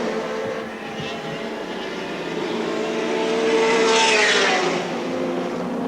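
Touring cars race at Lakeside International Raceway in a 1984 Australian Touring Car Championship round on a partly wet, partly dry track, among them the Kmart car; a steady engine roar swells loudly as a car passes close around the fourth second.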